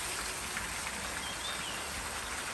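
Chicken frying in hot oil during home cooking, with rainfall outside, gives a steady, dense crackling sizzle that runs unbroken and fairly loud throughout, with no voices.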